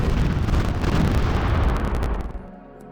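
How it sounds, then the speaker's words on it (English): A bombardment explosion in Civilization: Call to Power rumbles loudly in a dense, sustained blast, then decays away toward the end. "Satsuma got bombarded."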